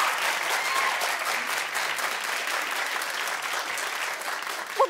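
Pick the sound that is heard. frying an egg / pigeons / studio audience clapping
studio audience clapping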